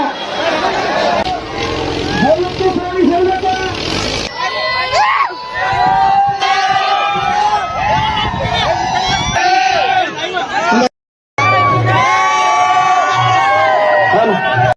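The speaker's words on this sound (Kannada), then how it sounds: "ಜೋರಾದ ಚಪ್ಪಾಳೆ ಮೂಲಕ ಕಾರ್ಯಕ್ರಮವನ್ನ ಉದ್ಘಾಟಿಸೋಣ" A crowd at a village tractor contest cheers and shouts loudly and continuously, with children's voices and excited calls mixed into the din, broken by a brief gap.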